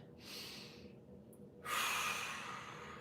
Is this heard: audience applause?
no